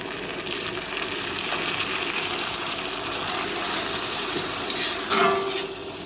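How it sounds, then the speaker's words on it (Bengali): Masala sautés in hot oil with a splash of water, giving a steady close sizzle and bubbling with faint stirring scrapes, rising slightly near the end, with no voices. "সামান্য একটু জল দিয়ে কষাবো।"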